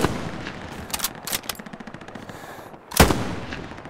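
Gunfire from the World War II shooter Hell Let Loose: a few sharp bursts of rapid shots, then a single loud, close crack near the end.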